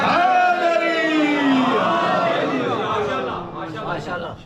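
A crowd at a majlis, a Shia religious gathering, chants slogans together, many voices rising and falling in unison, loud and close, fading toward the end.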